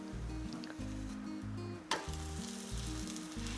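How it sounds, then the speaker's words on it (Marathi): A chapati sizzles steadily as it roasts with oil in a pan over medium heat, with a continuous frying hiss and a soft press or scrape near the middle. "आता गॅस मध्यम करून दोन्ही बाजूने छान भाजून घेऊयात"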